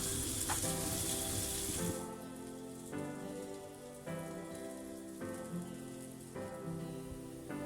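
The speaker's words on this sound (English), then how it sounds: "so I'm outside and I've got the onions grilling." Steady broadband sizzle of onions frying on a hot outdoor grill, close and continuous, with faint harmonic tones drifting underneath.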